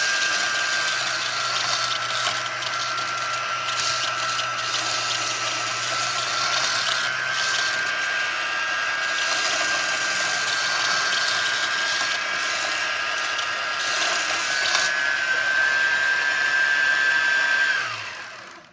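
A belt grinder sharpening a knife blade at deliberately low speed, a steady whirring motor hum with a continuous abrasive whine and hiss from the belt, running close and unbroken until it winds down at the end.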